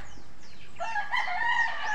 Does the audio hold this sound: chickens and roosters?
yes